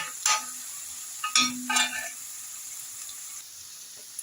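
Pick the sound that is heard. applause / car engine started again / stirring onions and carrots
stirring onions and carrots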